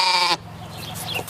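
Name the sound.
sheep bleating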